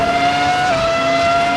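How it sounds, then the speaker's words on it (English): A Ferrari F2004 Formula 1 car with a high-revving V10 screams around a track, a loud, sustained whining engine note with a steady pitch that dips briefly midway, heard alone. "A beautiful, beautiful engine sound."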